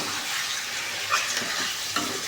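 Marinated chicken leg pieces for a chicken curry fry and are stirred in a pan, giving a steady close sizzle with a few soft scraping stirs.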